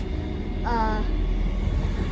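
A Northern class 158 diesel multiple unit rumbles with a steady, low-heavy drone, and a brief clear tonal note rises over it early on before the engine noise carries on alone.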